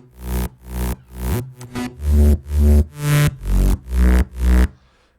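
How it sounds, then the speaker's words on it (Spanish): Plain synth bass with no distortion, playing about ten loud, evenly spaced sustained notes in a steady rhythm, alone and up close, ending in a brief fade. "el bajo normal suena así."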